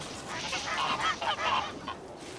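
Geese on a cooperative farm with ducks and ox carts give a flurry of overlapping nasal honks, moderately close and fairly loud, with no talking.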